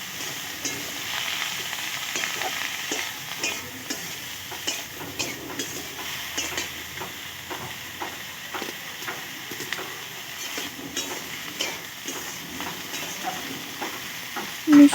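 Salted vegetable curry of radish being stirred in a pan, cooked vegetarian style: steady scraping and clacking strokes over a continuous sizzle, close and fairly loud, with no talking.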